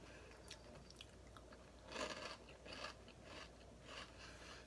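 Crisp, repeated crunching of pepper-flavored snack chips being chewed close to the mic, steady bites for several seconds with no talking.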